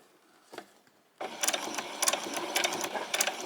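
After a quiet moment with a single soft knock, a sewing machine starts up close by, stitching bias binding onto the back piece of a white summer top with a fast, rattling run of needle strokes.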